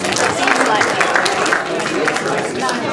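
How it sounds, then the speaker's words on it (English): An audience at a cultural festival stage show claps and cheers for two returning volunteers, a dense, sustained burst of applause from a crowd with voices mixed in. "Give them a round of applause."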